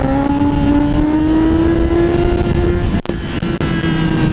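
Motorcycle engine under way on a casual ride near a customs post, a loud steady drone with rising harmonic tone and wind rush, holding a continuous note with two brief dips late on.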